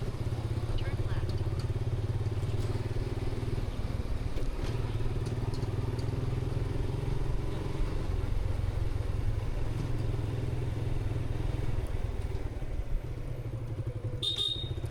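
A Suzuki Gixxer 155 motorcycle being ridden on a road, its engine a steady close, loud drone under wind rumble throughout, with a brief high-pitched tone near the end.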